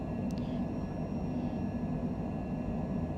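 Airliner engines held at full takeoff power in Microsoft Flight Simulator, a steady low roar running evenly throughout with no voices.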